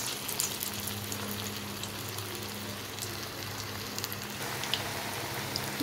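Watermelon rind fritters, shaped round, frying in hot oil in a kadai: a steady, dense crackling hiss that holds at an even level throughout, close and continuous with no talk.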